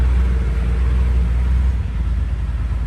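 A Kobelco SK140 excavator engine rumbles and roars steadily at close range, a deep continuous drone with a slight dip in level partway through, exhaust pipe smoking.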